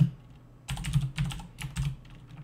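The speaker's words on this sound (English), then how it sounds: "that keyboard's loud" Loud computer keyboard typing in bursts of rapid clacking keystrokes, close to the microphone, set against a faint steady hum, with no speech.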